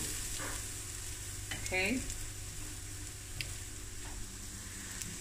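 Garlic sizzles softly in a pan for a creamy garlic and mushroom pasta, a faint steady frying hiss with a few light clicks of stirring while a voice speaks briefly.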